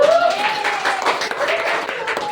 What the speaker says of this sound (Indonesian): beri tepuk tangannya untuk kelompok kita